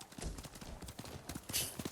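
Horse hooves clip-clop in a steady rhythmic patter in the video game Ghost of Tsushima, moderately quiet with soft rustling, and no talk over them.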